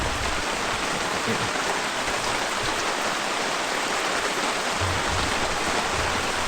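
Water drains steadily from RV plumbing on a Class C Chateau Sprinter during winterization, a continuous close hiss of flowing, splashing water with no breaks.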